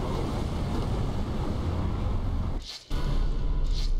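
Sea waves in the PC horror game Call of Cthulhu: Dark Corners of the Earth surge as a continuous roaring wash of surf and wind, steady and loud, briefly dipping before rushing back, with no talking.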